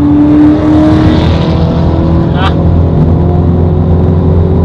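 A wide-body BMW M3 pulls away with a loud, close engine roar that holds steady and then changes pitch as it drives off, while a person talks over it.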